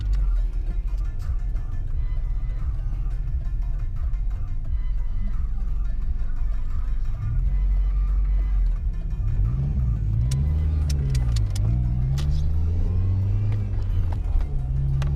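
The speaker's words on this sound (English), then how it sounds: "Oh, look at the line of cars coming." A line of road cars driving past near a local raceway, a continuous loud engine rumble with a rising and falling drone as vehicles go by, with no talk over it.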